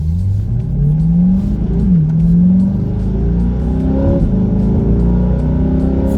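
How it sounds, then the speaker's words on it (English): Chevrolet Corvette C8 pulling away hard in track mode, its engine note climbing loud and close through rising gear sweeps with a brief dip at a shift, no talking. "So let's take off and see how she does."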